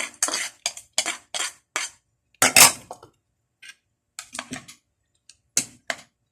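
A utensil clinks and scrapes against a pan while sliced white onion and other ingredients are mixed, in short sharp bursts separated by brief pauses, close and fairly loud with no talking.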